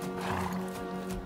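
A horse gives a brief, close neigh on a ranch where it is being fed and gentled, the whinny sounding over a steady background hum.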